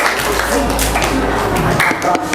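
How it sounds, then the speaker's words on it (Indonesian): A classroom of students clapping for a presenting group during an Indonesian school lesson, a short burst of scattered, uneven claps mixed with murmuring voices and low background hum. "Ya, beri tepuk tangan untuk kelompok 3."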